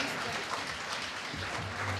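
Applause from a stand-up comedy audience fills the room in a dense, steady patter of clapping, with a faint voice beneath it.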